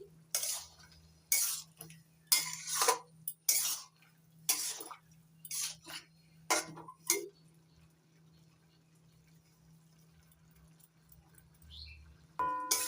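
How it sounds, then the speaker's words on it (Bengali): A spoon scrapes and clinks against a pan while stirring a water lily and shrimp curry, in several short, sharp strokes followed by a quiet stretch and a final scrape. "এবার নাড়াচাড়া করে মিশিয়ে নিচ্ছি"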